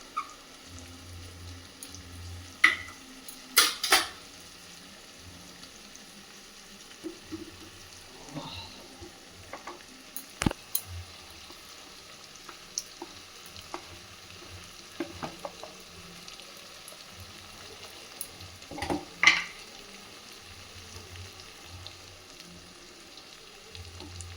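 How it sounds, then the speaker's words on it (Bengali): Onion paste with turmeric frying in a pan, a soft continuous sizzle broken by irregular scraping and clanking stirring strokes, close and moderately quiet, with no talking. "দিয়ে এটাকে ভালো করে একটু নাড়বো।"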